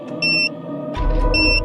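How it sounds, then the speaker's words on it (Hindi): A timer bomb hidden in a bag gives two short, high electronic beeps, clear and close, with a low rumble swelling beneath the second beep. "इसमें तो बॉम्ब है। हाँ, इसमें तो 15 मिनट का टाइमर लगा है"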